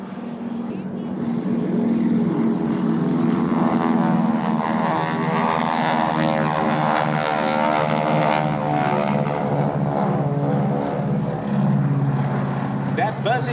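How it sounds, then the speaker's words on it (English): Navy SNJ advanced trainers fly at an air show, their radial piston engines droning loud and sustained with a rough, throbbing buzz that swells and shifts as the planes pass, while an announcer talks over it. "Sound now of these radial piston engines on Warbird Thunder"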